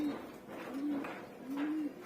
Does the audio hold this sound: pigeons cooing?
yes